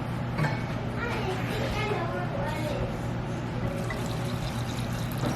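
Brine made with pink Himalayan sea salt, warm but not hot, is poured over peppers in a jar for fermenting, a steady wet pour running through the whole stretch over a constant low hum and faint background voices.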